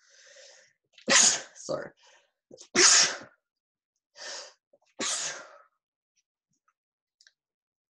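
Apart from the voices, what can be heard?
sneezing into the elbow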